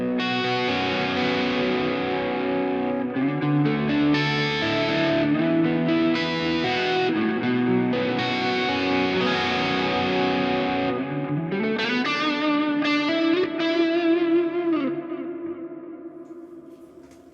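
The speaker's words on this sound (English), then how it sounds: "So that's got reverb, delay, and chorus." An electric guitar plays through the ML Sound Lab 'GNR' amp simulator plugin with chorus, delay and reverb, chords ringing out and the final notes trailing off in echoes.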